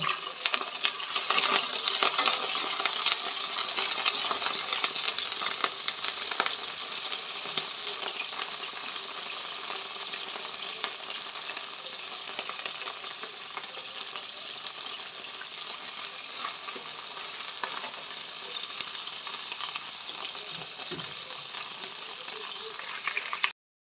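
Shrimp dropped into hot oil for fried rice, a steady bright sizzle and crackle of frying that holds evenly throughout with occasional clinks, no talk over it.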